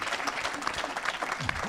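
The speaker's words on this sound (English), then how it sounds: "How about a round of applause for my sister Rilla?" A short burst of moderate applause from a crowd at a class auction, steady clapping with some voices murmuring underneath.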